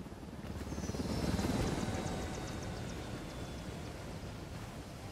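A helicopter in the video game Ghost Recon Wildlands whirs with a steady rotor drone that swells to a peak and then holds at a moderate, even level.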